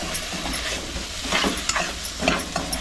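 A tempering of spices sizzles steadily in a covered cooking pot for Konkani Malvani-style brinjal bharit, with a spoon stirring and scraping through it in uneven bursts; close and continuous, no voices.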